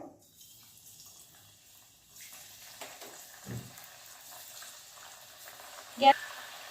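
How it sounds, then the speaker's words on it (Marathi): Bakarwadi, the Marathi spiral snack, frying in oil over a medium flame, with a soft steady sizzle, a couple of brief clatters and a sharper clink near the end. "आपण आता याला तळून घेऊया"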